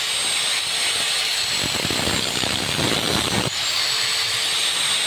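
An angle grinder cuts through a motorcycle lever guard on a Honda Click scooter, the workpiece held in a clamp; a steady loud whine runs throughout, with rougher bursts of cutting in the middle.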